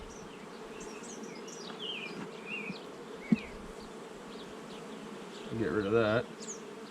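Honey bees hum steadily in an open hive, a close continuous buzz with individual bees passing by, while a person speaks briefly.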